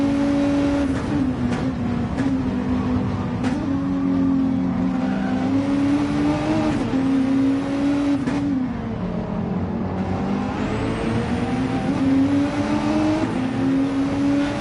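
A Renault RS01 race car in a racing video game at Goodwood howls continuously at high revs, the engine note rising and dipping through quick gear changes, loud and steady throughout.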